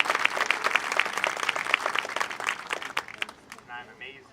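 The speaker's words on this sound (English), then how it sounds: "Give them a round of applause." Audience at a school Parents Day event clapping after names are read, a moderate burst of many hands that thins out and fades, with a voice speaking near the end.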